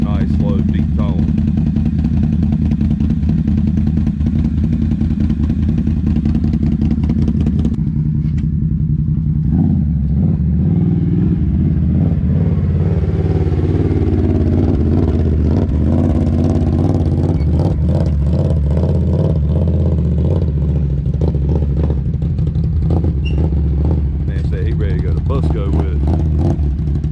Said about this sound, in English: there ain't many exhausts that sound this good with a nice slow deep tone